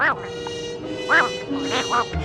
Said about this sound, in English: this alien who sounds like Donald Duck having a panic attack